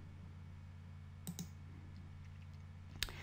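A computer mouse clicks twice in a quiet room, a close pair of faint, sharp clicks followed by a single click a moment later, with a soft hum underneath.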